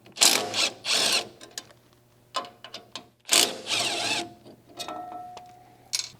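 Bolts being removed from a cover on a Tilmor 520 tractor, several short bursts of ratchet or power-tool whirring and clicking close by, separated by pauses of quieter handling noise, no talk.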